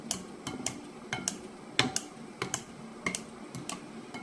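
A knife chopping cooked food on a cutting board while making an Algerian-style bastila: quick, irregular sharp taps and clicks, close and fairly light, repeating about every half second.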